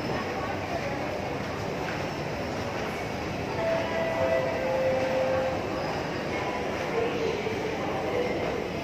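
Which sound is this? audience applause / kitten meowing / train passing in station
train passing in station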